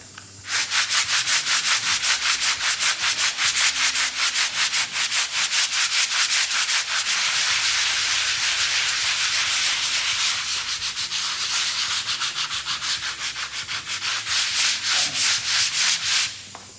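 Sandpaper rasps by hand over a rusted bar spot on ferrocement in fast, even back-and-forth strokes, loud and close, continuing without pause or voices.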